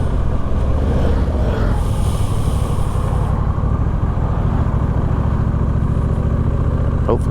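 Steady engine drone of a Honda Rebel 1100 motorcycle cruising near Shenandoah National Park's north entrance, a continuous loud low rumble mixed with wind noise and no pauses throughout.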